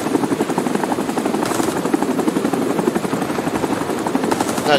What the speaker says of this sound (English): there's so many people just waiting for an helicopter to come down on you.